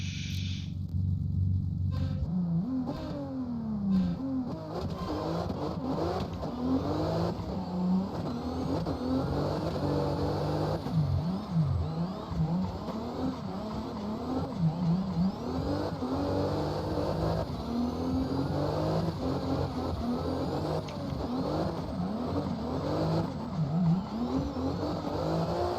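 A BMW E92 drift car in the video game CarX Drift, its engine revving hard and repeatedly with rising and falling sweeps, loud and close with no talk.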